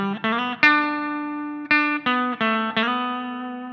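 Clean electric guitar played through a Burger amp simulator, a series of bright plucked notes and chords with sustained ringing decay, each attack crisp and close, no voices.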